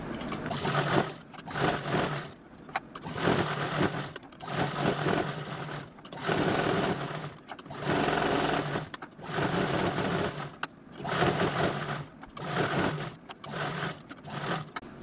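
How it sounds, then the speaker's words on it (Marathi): A sewing machine runs close and loud, stitching diagonal quilting lines across a fabric panel in repeated bursts of rapid whirring, each separated by brief pauses as the fabric is repositioned. "यावरती पुन्हा आपण अशा पण तिरपे तिरपे टिपा देऊन घेऊ"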